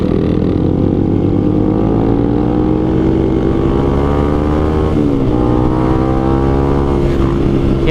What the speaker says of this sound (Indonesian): 3 motor kayaknya